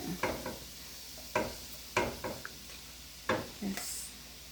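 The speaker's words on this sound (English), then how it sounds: "I am going to transfer the rice into the beans and the veggie mixture" Yellow rice being scooped into a pan of beans and veggie mixture, four or five distinct spoon scrapes and soft thuds spaced a second or so apart over a faint sizzle, close and fairly quiet.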